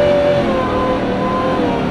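Supercharged 2018 Ford F150 V8 pickup fitted with a Gen 5 3.0 Whipple supercharger, accelerating hard with a loud, steady engine roar and supercharger whine close by, with no talking.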